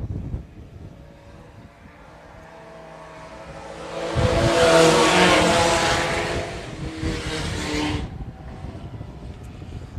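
IMCA Sport Compact race cars roar past on the dirt oval at Phillips County Raceway, engines rising to a loud, close pass before fading, with no voices over the engine noise.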